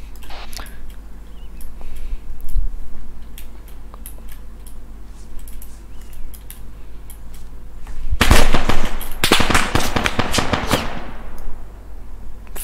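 Distant gunfire in Arma 3: scattered faint pops over a steady low rumble, then a dense burst of loud rapid shots and crackling reports lasting a few seconds before fading back to ambient noise.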